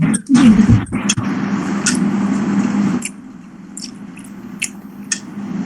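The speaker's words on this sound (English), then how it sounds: "Can hear you chew." Close, wet chewing and biting of food by a student on an online class call, soft squishy mouth sounds repeating through the clip with a few sharp clicks, louder at the start and quieter later.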